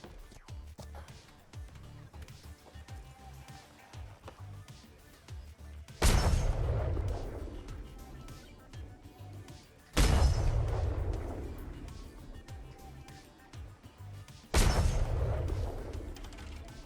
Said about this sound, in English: When firing the Puckle